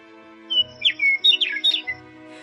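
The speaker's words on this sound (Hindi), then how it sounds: "उसी गांव के एक पेड़ पर रहती थी सोनी चिड़िया। उसके पंख सुनहरे और आवाज बहुत मीठी थी।" A small bird sings a quick run of bright, high chirps and short trills in clustered bursts over a soft, steady tonal background, with no voices.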